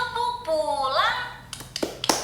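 Children in a classroom clapping along to a chanted clap rhyme, with a few sharp hand claps near the end following sung children's voices.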